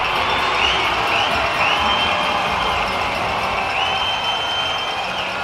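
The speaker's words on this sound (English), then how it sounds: "Listen to that crowd erupt." A crowd in a hockey arena at North Bay Memorial Gardens cheers loudly after a goal in a junior game, a dense sustained roar with whistles and shouts that holds steady throughout.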